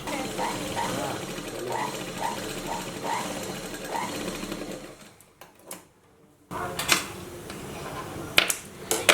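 Sewing machine stitching a blouse, a rapid rhythmic mechanical chatter for several seconds that stops, followed by a quiet pause and then clicks and handling noises as the fabric is adjusted.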